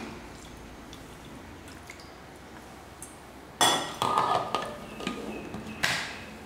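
Water poured into instant tomato dosa batter in a pot, a short splashing rush starting midway and trailing off in a few wet bursts and clinks, close and fairly quiet.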